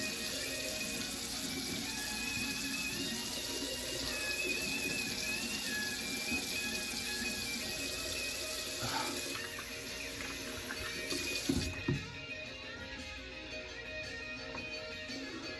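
Water runs steadily from a bathroom tap while a face is wetted before a straight razor shave, a continuous close splashing hiss with a faint handling knock near the end.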